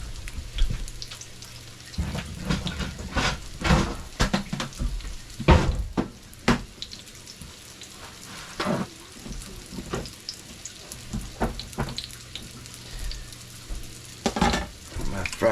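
Rockfish fry in a hot pan, a soft continuous sizzle broken by irregular crackles and pops, with handling clatter close by.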